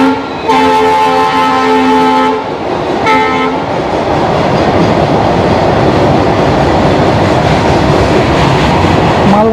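A freight train rolls past beside a stopped passenger train on the Kanchanjungha Express route, opening with a loud horn blast that cuts out and sounds again briefly, then a steady, close rumble and clatter of wagons.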